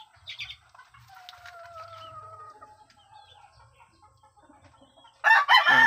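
A rooster crows once in a long drawn-out call from a moderate distance, preceded by soft clucking, with a burst of wing flapping or rustling at the end.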